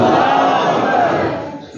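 A crowd at an Islamic religious gathering shouts a unified response to a chanted slogan, a loud, sustained roar of many voices that swells and then tapers off.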